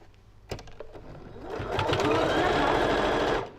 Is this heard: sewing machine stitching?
yes